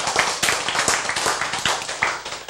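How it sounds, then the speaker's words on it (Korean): A lecture audience gives a short burst of clapping, with a few distinct, loosely rhythmic hand claps close by over about two and a half seconds. "박수!"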